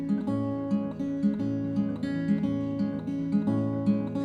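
Quick, steady fingerpicked acoustic guitar playing a song, bright plucked notes rolling in a repeating pattern over sustained chords, close and clear with no talking.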